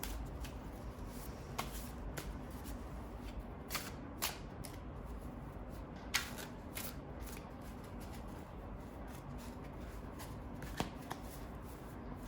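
Tarot cards being shuffled by hand, a steady papery riffling and sliding that runs throughout with occasional sharper snaps and flicks, close and fairly quiet, with no talking.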